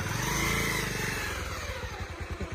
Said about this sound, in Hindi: चल गई बाइक तो।